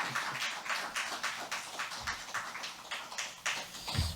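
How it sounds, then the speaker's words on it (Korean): Church congregation clapping to welcome a pastor to the pulpit, a soft, fairly distant applause with uneven bursts of claps. "우리 박수로 맞이하도록 하겠습니다"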